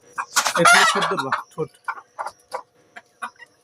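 Large hens being caught let out a burst of loud squawking, then a run of short, sharp clucks at a steady pace, close by with nothing else around.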